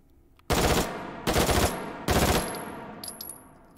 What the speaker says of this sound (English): The Steyr 1912 in 9x23 Steyr. Our first machine pistol